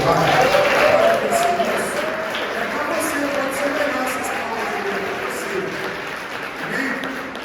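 A church congregation claps together in a sustained wash of applause, steady and fairly loud for several seconds, with crowd murmur and voices mixed in underneath.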